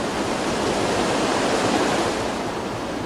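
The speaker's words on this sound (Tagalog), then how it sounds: "umapaw ang ilog na ito sa Dinalungan." A river in Dinalungan, Aurora, swollen and overflowing after Typhoon Labuyo, gives off a steady broadband rush of water, loud and close, with no talk over it.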